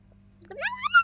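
A single rising meow from a cat in the VR game I Am Cat, close and clear, swelling in pitch and loudness over about half a second after a quiet start.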